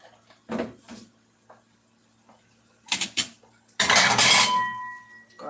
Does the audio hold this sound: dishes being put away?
yes